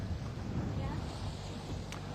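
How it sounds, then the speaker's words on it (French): Strong wind on a sailing boat at sea, a low steady rumble of gusts buffeting the microphone with wave and water noise underneath, fairly loud throughout. "There is a lot of wind, no?"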